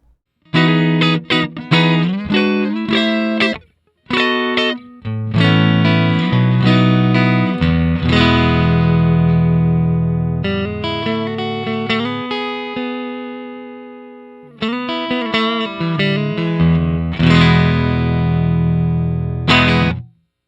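An electric guitar played alone through an MXR Micro Amp booster pedal with a boosted, slightly driven tone, strummed chords and single notes ringing out with sustained decays and brief pauses.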